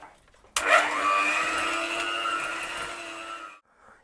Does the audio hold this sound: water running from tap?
no